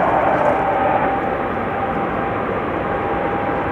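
A KLM Boeing 787-9 Dreamliner departs Amsterdam Schiphol for Bogota, giving a loud, close, steady jet roar with a faint whine, with no voices.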